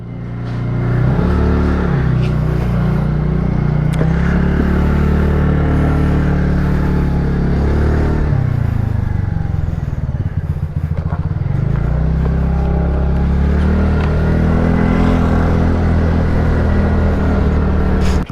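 A TVS Entorq 125 Race XP edition scooter engine drones steadily while riding, a loud continuous low rumble with gentle swells in pitch as the throttle shifts, alongside road and wind noise and no talking.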